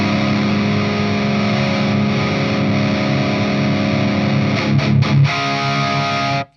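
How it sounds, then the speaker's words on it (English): Electric guitar through a SMIRMOOR SAULE RAT-style distortion pedal, a sustained, heavily clipped chord ringing loud and alone for several seconds before a few quick restrikes and an abrupt cutoff. "I usually set my overdrive or distortion in front of the amp just where it starts to zzz, and then I'll add a little bit gain clipping."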